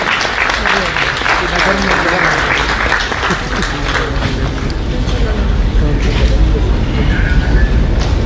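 Loud, dense applause from an audience at a state workshop event in Raipur welcoming Chief Minister Vishnu Deo Sai, continuous close clapping with crowd noise mixed in.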